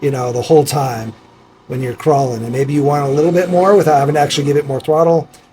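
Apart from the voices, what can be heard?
No everyday noises stand out.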